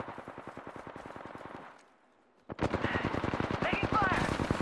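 Automatic gunfire in the battle game Apex Legends: a rapid, steady stream of loud close shots, a brief lull, then another dense burst with overlapping shots and echo.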